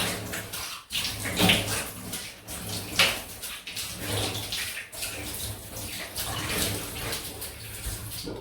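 Tap water running steadily to rinse a safety razor after shaving, close and continuous, with a few splashy surges as the razor passes through the stream.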